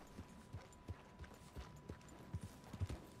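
Hooves clop in an uneven rhythm at a quiet level in Red Dead Redemption 2, a horse moving at a walk with soft thuds and no voices.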